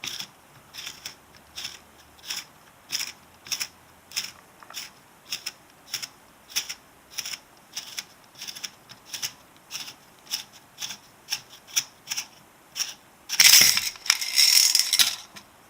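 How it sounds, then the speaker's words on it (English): An AR-15 buffer tube being twisted counterclockwise off the buttstock gives a long run of evenly spaced, crisp metallic ratchet clicks, close and fairly quiet, ending in a brief louder burst of handling noise. "You're going to turn the buffer tube counterclockwise."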